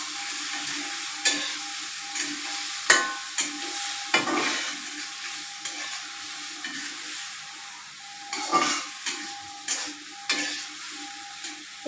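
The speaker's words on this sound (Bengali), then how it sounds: "এই যে বেগুনটা কষাই করে নি ভালো করে" Eggplant being sautéed in a pan for lunch, a soft sizzle broken by repeated scraping and stirring strokes of a spatula at an uneven pace, no talking.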